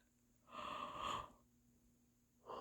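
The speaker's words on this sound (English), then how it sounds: "I've been yawning so much." A person yawns, a long breathy exhale rising and fading over about a second, followed by quiet and the start of another breathy yawn, close and soft with a faint steady hum underneath.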